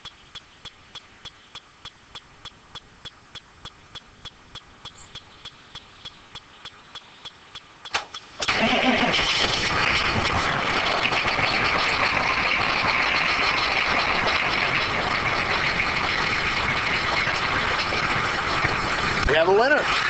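A diesel engine is started in cold weather with glow plugs: a steady rhythmic clicking crank runs for about eight seconds, then the engine catches and settles into a loud, rough, continuous running roar up close.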